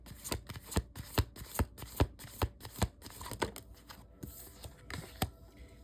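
Akashic Records Oracle cards are shuffled by hand in a quiet room, giving a rapid series of crisp, close riffling snaps and papery flutters with no talking.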